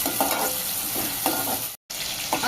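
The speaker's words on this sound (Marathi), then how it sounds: "टोमॅटो आपण आता एक मिनिटभर परतून घेऊया" Chopped tomato sautéing in a hot pan for a wedding-style potato, pea and brinjal curry, with a continuous steady sizzle and repeated scraping stirs, broken by one very short gap.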